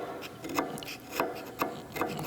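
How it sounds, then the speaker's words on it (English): Rhythmic hand scraping on the cast-iron dovetail of a Monarch lathe cross slide, with about four crisp, evenly spaced scrape strokes heard close up against a quiet background. "start scraping."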